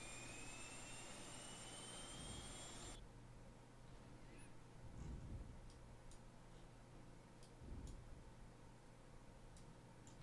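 Boeing 737 Classic engine number 2 starting in a flight simulator: a faint, rising starter whine for a few seconds that cuts off abruptly, followed by soft ticking and low rumbles in a quiet background.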